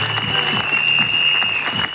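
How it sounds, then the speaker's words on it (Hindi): An indoor seminar audience in Ayodhya claps for the sponsors, a steady patter of hands under a faint sustained electronic tone. "हम चाहेंगे उनके लिए एक जोरदार ताली हो"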